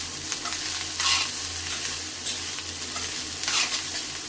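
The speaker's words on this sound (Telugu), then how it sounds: "హైలో పెట్టి మిక్స్ చేసుకోవడం వల్ల అన్నంలో డ్రైనెస్ అంతా పోతుంది, మనకి మంచిగా ఫ్రై అయిపోతుంది" Cooked rice being stir-fried on high heat in a pan, a steady loud sizzle with a spatula scraping and tossing in repeated bursts, no voices.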